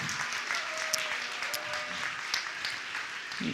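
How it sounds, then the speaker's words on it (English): Faint, steady applause from an audience at an elementary school event, continuous clapping throughout with a murmur of voices underneath. "give them a big round of applause"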